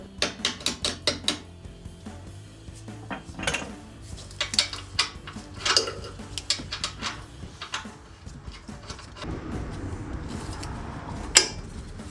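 Control arm bolts on a 2009-2020 Ford F-150 being tapped lightly into place during an upper control arm install, a series of close sharp metallic taps in bursts, followed by quieter clinking and rustling.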